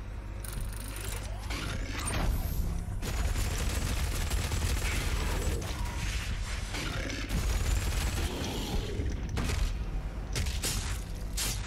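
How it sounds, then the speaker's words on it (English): Chain gun fire in DOOM Eternal, a sustained rapid mechanical rattle of shots with whirring machinery, loud and continuous for several seconds amid game combat noise. "Chain gun."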